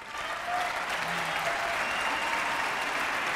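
An awards-ceremony audience gives continuous, dense applause, loud and even from start to finish with no gaps.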